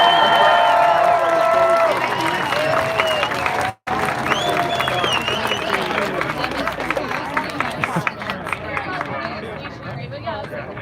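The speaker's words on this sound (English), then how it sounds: "Let's give a big round of applause for Health Freedom Idaho, ladies and gentlemen." Outdoor crowd applause for Health Freedom Idaho at a Boise rally, sustained clapping mixed with cheering and chatter, loud at first, briefly cutting out, then continuing with crisp individual claps as the crowd noise thins.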